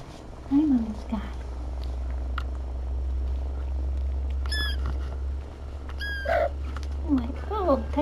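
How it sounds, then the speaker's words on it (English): A mother cat purrs steadily in a low, continuous rumble close by, with her kittens, while a few brief bird-like chirps and soft voices come and go. "Oh, you can hear some good purring."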